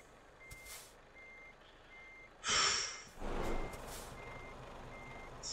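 Truck reversing alarm in the Euro Truck Simulator 2 game, a steady series of short evenly spaced beeps, broken by a sharp hiss of air brakes and a rumbling burst partway through.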